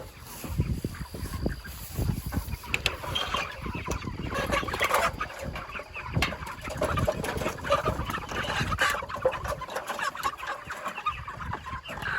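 Flock of broiler chickens clucking and chattering continuously while a chicken tractor is moved, with a steady busy layer of bird calls and shuffling, fairly close and alone without talk.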